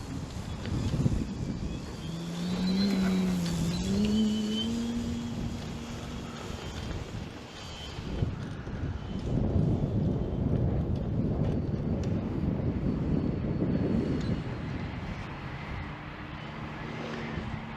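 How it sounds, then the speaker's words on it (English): A PA Katana 52 model airplane takes off on its maiden flight, its engine or motor tone rising and holding steady at a distance, with heavy wind buffeting the microphone throughout. "here we go, taking off the Katana on its maiden flight"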